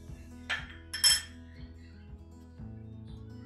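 A spoon mashes a semolina barfi mixture with cardamom in a pan, giving two sharp metallic clinks and then softer, sparse taps and scrapes against the metal, close and with no talking.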